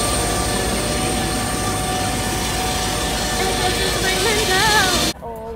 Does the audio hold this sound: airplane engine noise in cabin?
yes